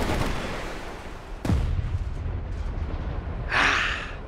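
A missile launched at an insurgent tank in a war game, with a sharp loud blast around the middle, a rumbling tail and a later hissing burst, with no talking.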